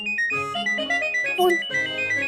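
A mobile phone ringtone plays a bright, repeating electronic melody in a domestic scene, steady and fairly loud for about two seconds with no talk over it.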